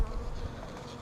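Honey bees buzzing densely in a crowded top bar hive, a close, continuous droning hum with no voices.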